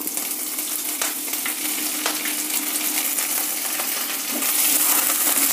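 Chana dal, urad dal, chopped ginger and curry leaves roast in oil in a pan, giving a dense, continuous crackling sizzle with a few light stirring clinks, close and fairly loud.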